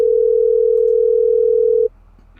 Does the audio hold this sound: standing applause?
no